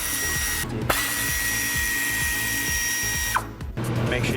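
A power tool spins bolts out of the timing chain cover on an Audi B6-B7 S4 engine in a workshop, a close steady whirring in two bursts with a short pause and a clank between them.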